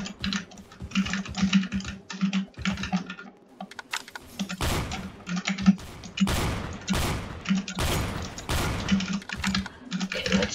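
Loud, rapid keyboard clicks clatter in uneven bursts during a Roblox Strucid match, mixed with sharp in-game gunfire blasts and effects throughout.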